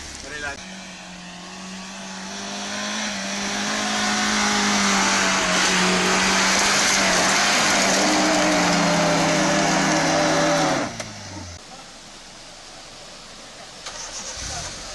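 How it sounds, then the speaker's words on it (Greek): A Daihatsu Terios engine idles, with a steady mid-pitched hum that swells slightly and then holds before cutting off near the end, leaving quiet background sound. "Ρελαντί."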